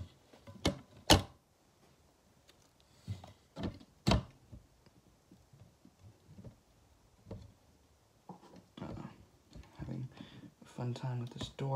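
Door of a frog vivarium housing Ranitomeya benedicta dart frogs being opened, giving a few sharp clicks and knocks near the start, then softer scattered handling rattles and rustles close by.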